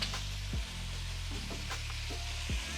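Seafood stir-frying in a hot wok for drunken noodles (pad kee mao) after soy, oyster and fish sauce go in: steady close sizzle with a few scraping stirs of the spatula, no voices.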